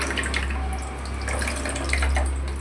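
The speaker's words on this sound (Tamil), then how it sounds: "இந்த ஸ்டேஜில் நம்ம புளி கரைச்சி ஊற்றிக்கலாம்." Dissolved tamarind water poured into crab rasam, a close, continuous splashing trickle of liquid over a low steady hum.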